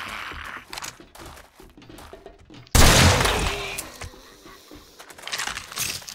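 A blunderbuss blast in the game 7 Days To Die lands as one loud, sudden boom that decays slowly, following quieter clattering game sounds and trailed by scattered clicks and thumps.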